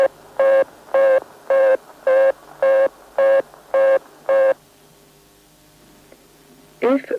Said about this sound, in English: The tone indicating that the local lines or equipment in America are engaged will sound like this.